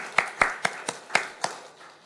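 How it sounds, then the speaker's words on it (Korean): Sparse claps from a church congregation at a healing service, about six separate sharp hits spaced unevenly over two seconds, fairly quiet and without talk. "지루하시고 응답하신 사랑의 하나님께 감사와 영광의 박수를 올려드리겠습니다."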